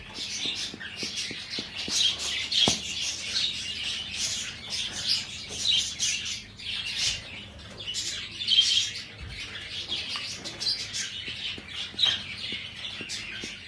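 A colony of pet birds chirps and squawks excitedly at a water bowl, a dense, continuous chatter of overlapping calls close by, with occasional sharp ticks and wing sounds.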